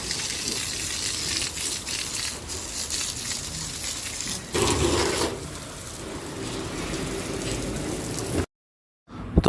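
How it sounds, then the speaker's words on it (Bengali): Steady rain falls in a sunny shower, a dense even hiss that thickens briefly midway before cutting out into silence near the end. "রোদ হচ্ছে, বৃষ্টি হচ্ছে"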